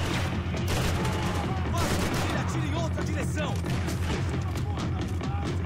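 Continuous loud gunfire and shooting in the action game Max Payne 3, rapid overlapping shots with a busy background of game noise and some voices mixed in.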